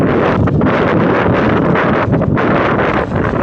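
Strong wind at Phewa Lake in Pokhara buffets the microphone with a loud, constant roaring rumble that swells and dips slightly, with no voices over it.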